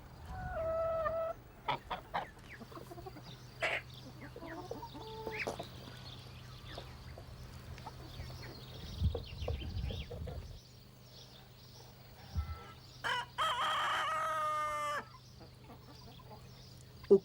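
Farmyard chickens give scattered, fairly quiet clucks and squawks over a low steady background hum, with a longer, louder strained call rising out near the end.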